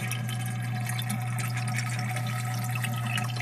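Water from an aquarium canister filter flows through a hose into the tank, a steady, close trickle and gurgle with no breaks, over a constant low hum.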